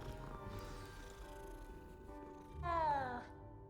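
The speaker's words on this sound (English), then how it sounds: "I think petting the cat should give me a buff." A cat meows once, brief and soft, while being petted in Hogwarts Legacy, over steady quiet game music and a low background voice.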